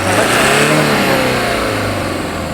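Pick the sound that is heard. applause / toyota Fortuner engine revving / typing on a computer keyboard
toyota Fortuner engine revving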